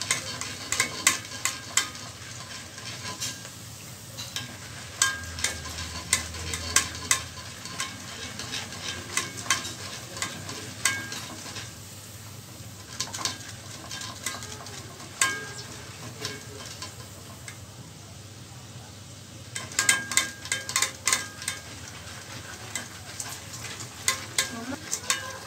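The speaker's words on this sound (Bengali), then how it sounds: "এটা একটু নেড়ে নেড়ে ভাজবেন যাতে চারপাশটা হয়ে যায়" Lentils for homemade chanachur fry in a pan on the stove with a continuous sizzle, stirred constantly so a spoon ticks and scrapes in quick, irregular bursts throughout.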